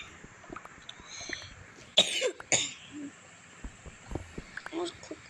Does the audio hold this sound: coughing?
yes